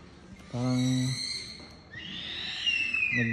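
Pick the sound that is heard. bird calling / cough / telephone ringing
bird calling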